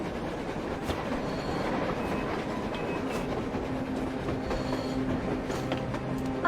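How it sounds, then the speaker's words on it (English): A train rolls across the surface in the video game Metro Exodus, a continuous rumbling clatter of wagons and rails with rhythmic clicks and faint wheel squeals, moderately close and steady throughout. "A train! A damn train on the surface!"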